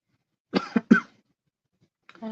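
A man coughs twice in quick succession from a dry throat after repeatedly sniffing Jameson whiskey, close and loud, followed by silence and then a few words of speech.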